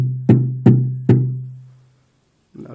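Gottlieb pinball sound board playing a short sample: three sharp, evenly spaced electronic thumps with a sustained low tone that fades out, followed by a faint later blip.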